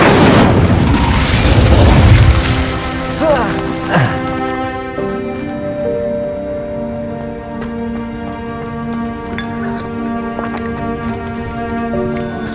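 A fiery spell bursts loudly in the Hogwarts Legacy video game, a roaring blast over the first few seconds that fades into ringing, sustained magical tones and game music.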